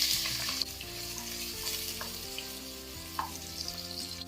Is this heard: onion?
yes